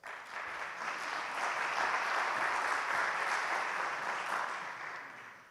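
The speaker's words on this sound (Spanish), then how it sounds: "por favor, un aplauso también para él" An audience claps for a welcome speaker at an anniversary forum, applause swelling quickly to a steady, even roar of many hands, then tapering off toward the end.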